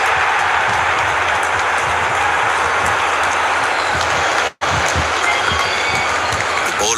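Crowd cheering in a cricket video game, a dense, steady roar of stadium noise broken by a brief dropout, loud and continuous with no talk over it.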